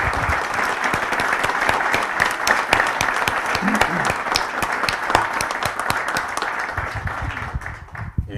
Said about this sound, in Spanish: un aplauso bien grande para ellos